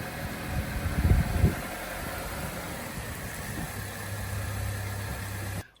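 A 2024 Hyundai Elantra with the 2.0 engine idling while it warms up, a steady low hum with some nearby knocks and handling noise early on, then a smooth, even drone until it cuts off.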